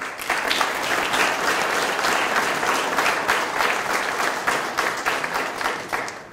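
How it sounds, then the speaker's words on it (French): Loud, sustained applause from a crowd at a town hall New Year's greetings ceremony in Pineuilh, with dense clapping filling the whole stretch and holding steady before tapering slightly at the end. "merci de les applaudir très très fort"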